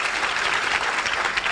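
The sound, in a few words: audience applause welcoming a decision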